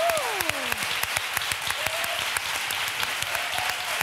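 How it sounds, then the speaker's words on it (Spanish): Studio audience applause on a Spanish TV talk show, steady and moderate, with a few sharp individual claps over the crowd and brief vocal tones cutting through. "Esto merece un aplauso."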